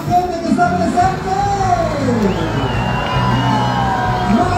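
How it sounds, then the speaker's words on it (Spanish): A crowd at a hot-air balloon festival in Zozocolco de Hidalgo, Mexico, in 2023 shouts and cheers loudly and without a break, with drawn-out rising and falling yells standing out above the mass of voices. "quiero escuchar un grito fuerte de toda la gente que está presente"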